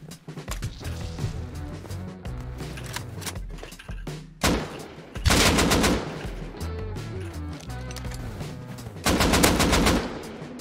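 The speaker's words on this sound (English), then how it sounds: "I'm literally grabbing an AK and I'm going out." Rapid bursts of AK rifle gunfire in the survival game Rust, loud and close, with heavy automatic volleys around 4.5–6 seconds and again near the end, mixed with other game sounds and thuds.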